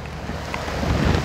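Rain and rushing wind noise while riding a Honda Forza 350 scooter on stock tires along a wet road, a continuous loud wash with low rumble that builds slightly toward the end, no speech.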